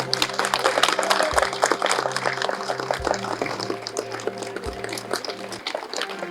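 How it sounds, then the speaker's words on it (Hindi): A crowd at a political gathering in Rithala, Delhi, gives a minister loud, dense, sustained applause that fills the whole stretch, with a steady tonal hum running underneath. "माननीय मंत्री साहब के लिए आप एक बार जोरदार तालियां दें।"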